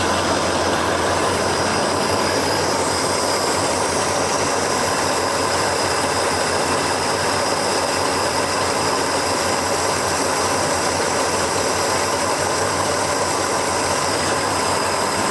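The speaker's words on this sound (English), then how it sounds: "You can hear that old exhaust is blown out or something right there underneath the passenger seat." A loud, continuous rumbling engine of a 1972 Pontiac barn find idles with a raspy drone from an exhaust blown out under the passenger seat, steady and close throughout with no pauses.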